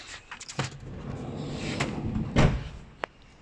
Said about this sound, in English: So let's test the sliding door now.